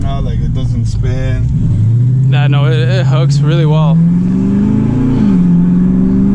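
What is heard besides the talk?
cammed Dodge Challenger Scat Pack engine accelerating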